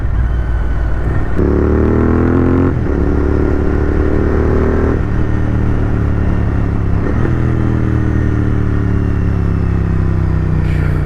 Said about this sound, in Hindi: आज तो भाई हर डाउन शॉट पे पटाखे आ रहे हैं